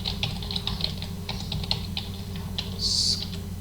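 Typing on a computer keyboard while entering network settings: a run of light, irregular key clicks at a steady pace, close and fairly quiet over a low background hum, ending with a brief brighter tone.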